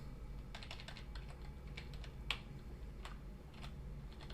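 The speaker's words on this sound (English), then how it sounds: "or I can just type the number I want" Numbers typed on a computer keyboard: a handful of light, close key clicks in an irregular rhythm over a quiet room hum.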